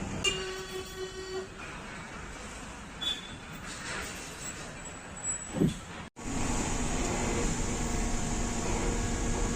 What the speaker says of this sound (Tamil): கரெக்டாக பார்த்தீங்கன்னா பஸ்ஸு கிளம்பியாச்சு இந்த ஈஸ்ட் ஃபோர்ட்லேருந்து.